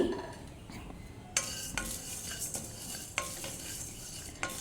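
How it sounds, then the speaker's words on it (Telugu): Whole spices such as cinnamon, pepper and dried red chillies dry-roasted in a kadai, with a ladle stirring and scraping in sharp recurring strokes and light clinks against the metal. "ఒక కడాయి పెట్టుకొని దాంట్లో వీటిని దోరగా వేయించుకోవాలి"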